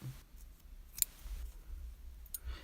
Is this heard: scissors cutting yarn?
yes